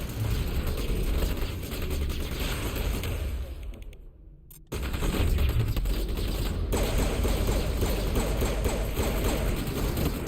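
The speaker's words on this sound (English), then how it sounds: "they started guns blazing" Robots open fire in the sci-fi shooter Mass Effect: dense, sustained volleys of rapid gunfire fill the whole stretch, cutting out briefly for a moment midway before resuming just as loud and relentless.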